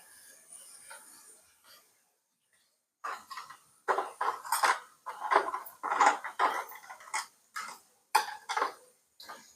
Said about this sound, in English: my measuring spoons. Go ahead and give those a wash